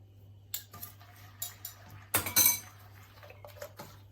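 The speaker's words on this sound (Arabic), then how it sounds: "صافي البنات انا غادي نخلط هاد العناصر مزيان" A spoon clinks against a bowl while ghriba cookie dough ingredients, honey and apricot jam, are mixed, giving scattered metallic taps with a brief scraping burst in the middle.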